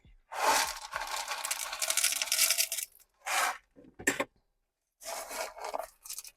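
Gritty soil mix is poured into a pot around a variegated Echeveria Lola succulent, heard as a long, close rattling pour followed by several shorter bursts of trickling grit.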